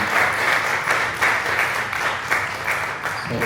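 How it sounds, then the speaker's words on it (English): An audience gives a panel a final round of applause, producing a loud, sustained wash of clapping that swells and eases slightly over three and a half seconds. "One last round of applause for our panel"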